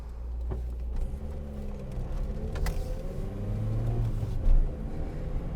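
A 1981 Ford Fiesta XR2 drives along with a steady engine drone and road rumble, heard from close by with brief rises as it gains speed and no talking.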